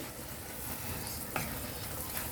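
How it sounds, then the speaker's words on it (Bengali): A thick spice paste of ground masala and yogurt fries in oil in a pan, giving a constant close crackling sizzle with a couple of faint stirring scrapes. "মশলাটা পুরো কষা হয়ে গেছে, এখন তেল ছেড়ে দিয়েছে।"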